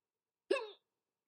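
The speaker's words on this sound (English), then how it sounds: "All these hiccups." One short, sharp hiccup stands alone in otherwise silent surroundings, close and moderately loud.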